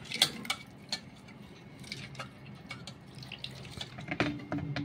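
Water trickles quietly into a fish curry mixture, with faint splashes, scattered drips and a few light clinks of dishes and utensils, and no talking.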